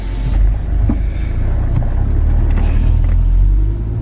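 Volkswagen Golf R, completely standard apart from a small air filter, drives along with a steady low engine rumble and road and wind noise throughout, close and loud, with no talking.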